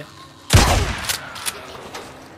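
A loud, close gunshot blast from the video game Days Gone is followed by a few fainter, scattered shots trailing off.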